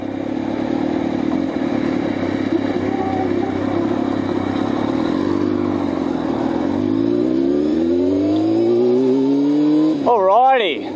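A car engine drones steadily from inside while stuck behind a truck, then the pitch sweeps up as it accelerates, with a voice talking over the engine near the end.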